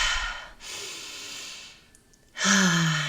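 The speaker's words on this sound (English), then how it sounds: "taking a deep breath" A person close to the microphone takes a deep breath: a breathy rush, a long steady inhale, a brief pause, then a fuller, slightly voiced sighing exhale.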